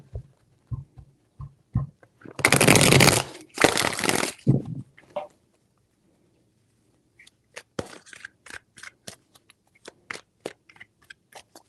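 Tarot cards shuffled by hand in two dense bursts of riffling and rustling close by, followed by quieter scattered taps and card flicks.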